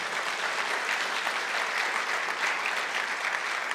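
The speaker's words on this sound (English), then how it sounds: "I'll take that round of applause back there" Steady audience applause at a political gathering where the Georgia attorney general is speaking, a dense even wash of clapping lasting the whole stretch with no talk over it.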